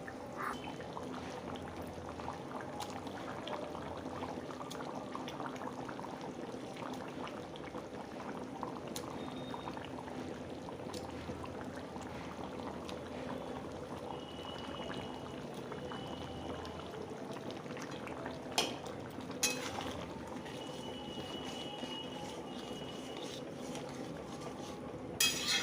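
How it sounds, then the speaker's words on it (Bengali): A pot of fish and taro curry bubbles at a steady, soft boil, keeping up a continuous low simmering hiss with a few faint clinks of utensils. "মাছগুলো দিয়ে একটু ফুটিয়ে নেব।"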